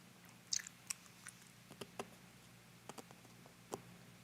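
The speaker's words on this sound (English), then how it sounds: "Sorry if you can hear me chewing ice." Ice being chewed by a man in a quiet room during a live figure painting session, heard as a few faint, sparse crunches and clicks spread over several seconds with no talking.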